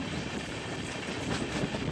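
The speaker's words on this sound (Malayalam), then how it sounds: "മംഗളൂരു സെൻട്രൽ രാമേശ്വരം എക്സ്പ്രസ് പാമ്പൻ പാലത്തിലൂടെ ഇതാ കടന്നു പോവുകയാണ്." The Mangaluru–Rameswaram Express rolls across the Pamban sea bridge with a steady rumbling roar of wheels on rails and a faint rhythmic clatter, continuous and moderately loud, with no voices.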